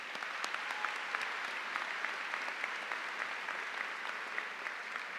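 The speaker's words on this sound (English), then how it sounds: "Give them a round of applause, please." Steady applause from a crowd at a high school commencement, a dense patter of clapping that holds evenly throughout, heard from some distance.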